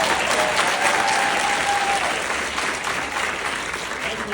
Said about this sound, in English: can we get one more round of applause for our graduates right here?